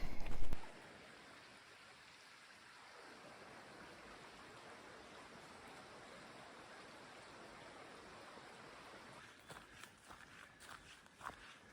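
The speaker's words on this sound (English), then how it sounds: "There's the water source, the Elk River." The Elk River flows along the Centennial Trail, a steady broadband rush of water near and fairly loud, with footsteps on the trail crunching over it toward the end.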